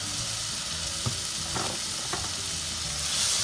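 Garlic powder and spices sizzle in a hot frying pan as they are stirred, a continuous bright hiss with a few soft scrapes of the spoon, close and alone.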